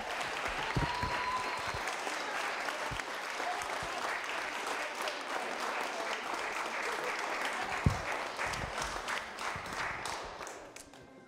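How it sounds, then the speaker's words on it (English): Outdoor crowd at a soap box derby applauding and cheering Masters division drivers, a steady wash of clapping and cheers with a few sharp claps, fading out near the end. "let's cheer these Masters drivers on"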